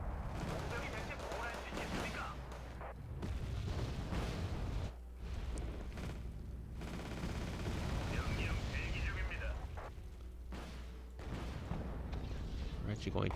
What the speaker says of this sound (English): there's our artillery.